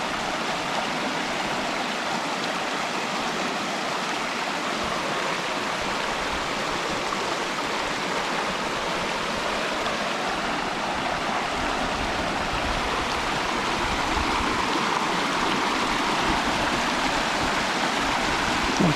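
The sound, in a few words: river stream flowing in Combe Laval, Vercors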